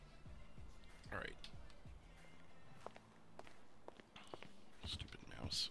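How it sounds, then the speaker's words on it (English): Footsteps in GTA 5 roleplay, a run of soft irregular steps with sharper taps scattered through, heard over a low game hum with faint murmured voices. "I did hear footsteps for a minute there."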